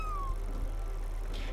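A cat in the video game Spiritfarer gives a single short, descending meow, clear but soft, over a quiet steady background hum.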